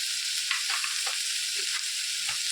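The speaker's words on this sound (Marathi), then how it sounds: "मिक्स करून घ्यायचं दोन तीन मिनटं चांग परतून घ्यायचे आपण" Tomatoes, onions and salt sautéing in a pan for spicy tomato chutney, a continuous bright hiss of frying with a few soft stirring knocks, close and steady.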